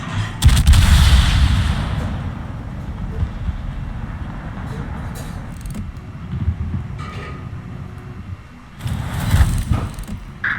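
Naval guns fire HE shells in World of Warships, with a loud booming salvo at the start and another near the end, and a rumbling roar of battle between them.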